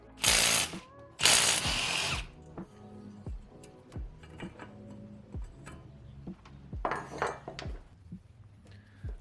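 A ratchet spinning off the 10mm nuts on a turbo's oil drain tube during a rebuild, with a loud burst of rapid clicking, then a series of single metallic ticks and clacks, and another short clicking run near the end.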